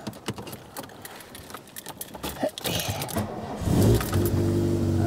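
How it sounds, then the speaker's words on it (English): A VW Golf Mk2 GTI engine cranks and catches about two-thirds of the way in, then settles into a steady, close idle, preceded by soft clicks and rustling inside the car. "Start the engine."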